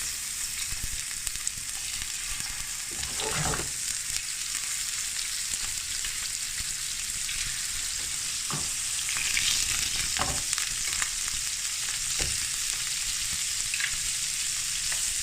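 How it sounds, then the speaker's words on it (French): Marinated shrimp seasoned with white pepper and salt crackling in hot oil, with a continuous bright sizzle nearby and occasional stirring knocks and pops, without any voices. "notre shrimp avec un peu d'huile. Nous allons les ajouter tout doucement."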